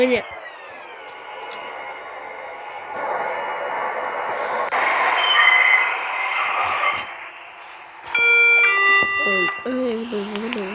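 A train rolls along rails in the Roblox game Livetopia, with a steady rumble, squealing wheel tones and chiming, alarm-like beeps near the end.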